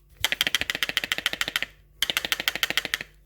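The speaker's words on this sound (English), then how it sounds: "this clicking noise, it's made by the rotor" Rapid mechanical clicking from the rotor of a Braun Model 4162 blender, two bursts of about a dozen sharp, evenly spaced clicks each, close and fairly loud, with a short pause between them.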